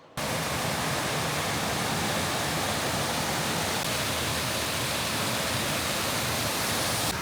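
A waterfall on Citico Creek roars as a steady, loud, broadband rush that runs unbroken from start to finish with no other sounds.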